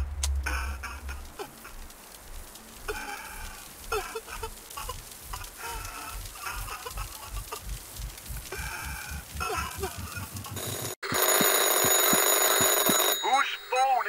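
A telephone rings in the horror game Anthology of Fear, first as a long run of rhythmic rings under excited talk, then as a loud continuous electronic trill near the end.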